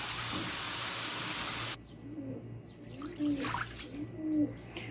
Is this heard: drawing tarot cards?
no